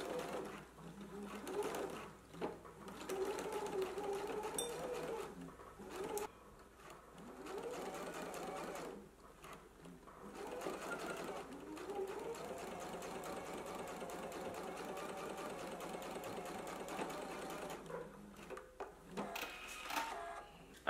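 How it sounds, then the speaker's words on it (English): A sewing machine runs a basting stitch on a bias-cut satin skirt in bursts, its motor rising and falling with pauses between stitching runs, fairly quiet and close. "I'm going to go to my sewing machine. I'm going to do a basting stitch"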